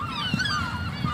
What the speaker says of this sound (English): Loud and proud seagulls.